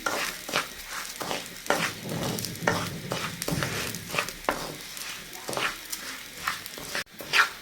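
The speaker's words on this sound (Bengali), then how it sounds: "মুগ ডাল ভাজাগুলো হয়ে গেছে প্রায়" Mung dal fries in a pan, giving a soft crackling sizzle close by, broken by repeated scraping stirs at an uneven pace and a brief clatter near the end.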